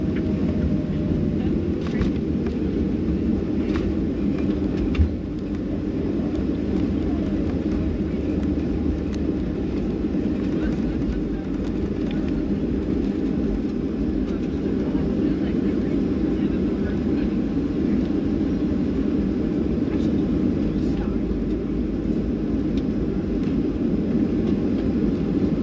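A Delta airliner taxiing after landing at Boston gives a steady loud cabin rumble and engine drone throughout, with a brief bump partway through, while radio voices talk faintly underneath.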